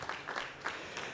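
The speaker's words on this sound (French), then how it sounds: "On peut l'applaudir très fort," A short burst of audience clapping at a conference awards event, moderately loud and uneven, lasting just over a second.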